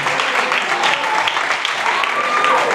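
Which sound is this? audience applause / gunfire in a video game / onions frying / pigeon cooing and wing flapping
audience applause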